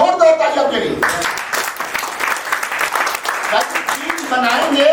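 Loud audience clapping at a business networking seminar, dense applause with a speaker's voice heard at the start and end.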